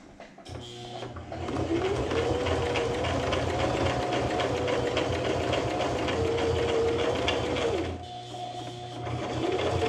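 A sewing machine stitching a messenger bag shoulder strap during a repair, running steadily with a loud mechanical whir and rapid needle clatter, pausing briefly near the end before starting again.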